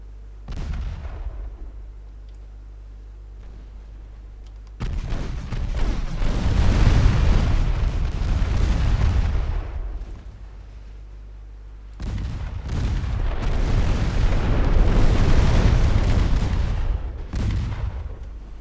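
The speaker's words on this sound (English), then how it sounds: "Way too much fire coming in from those cruisers." Deep, rolling booms of naval gunfire from cruisers in the warship game Ultimate Admiral Dreadnoughts come in two long, heavy barrages separated by a lull, loud and rumbling with sustained low-end roar.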